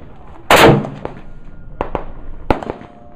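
A .325 Winchester Short Magnum rifle firing a 220-grain Power Max bonded round outdoors, one loud sharp blast followed by fainter cracks and pops from the impacts, close and unaccompanied by speech.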